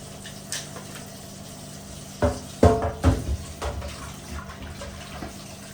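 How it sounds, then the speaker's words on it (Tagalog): Water runs from a tap into a sink while dishes clink and clatter in a short burst, then the flow continues quietly. "Ang mabilis maghugas pag tuloy-tuloy yung tubig."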